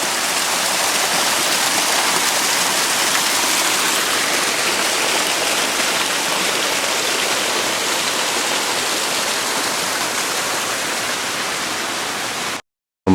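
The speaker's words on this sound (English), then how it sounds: "There's more and more water tumbling about us." Water tumbling down a waterfall and along a stream in Boyana Park, Sofia: a dense, steady, loud broadband rush that continues without a break, cutting off abruptly near the end.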